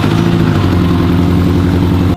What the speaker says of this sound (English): the engine came back to life